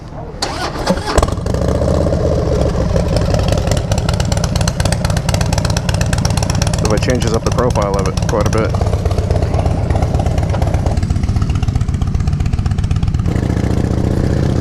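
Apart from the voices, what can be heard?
Harley-Davidson motorcycle engine starting and idling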